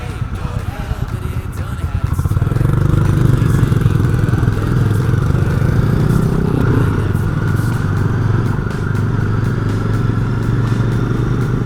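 Royal Enfield Bear 650 motorcycle engine running steadily on a rough road, a loud continuous low rumble that swells after a couple of seconds and holds, with faint background voices.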